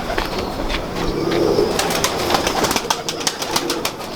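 Pigeons coo close by, throaty murmuring calls mixed with scattered flutters and sharp ticking sounds, fairly loud and continuous.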